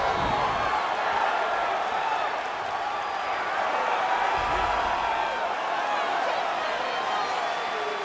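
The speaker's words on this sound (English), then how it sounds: "Crowd fired up, so are we." A video game arena crowd from EA Sports UFC roars and cheers in a steady, dense wash between rounds, with a commentator's voice faintly mixed in.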